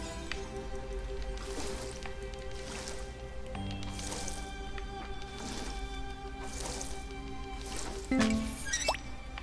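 A watering can sprinkles crops in the farming video game Fae Farm, with a regular series of soft splashy drips and squishes repeating over light background game music.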